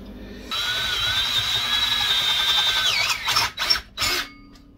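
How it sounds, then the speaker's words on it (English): A power drill bores a hole in a steel cage-nut blank, whining steadily for a few seconds and then cutting in a few short, harsher bursts before stopping. "then I'm going to drill a hole in there"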